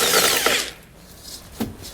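A power tool spins an 18mm socket to remove the bumper beam nuts on a 2017 BMW X3. A loud whirring burst comes first, then a short pause, then a brief second whir.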